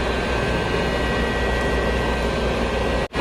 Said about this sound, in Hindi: इसका इंजन इस वक्त स्टार्ट है, इंजन चालू है, इसी वजह से बहुत ज़्यादा आप बैकग्राउंड में आवाज़ सुन सकते हैं।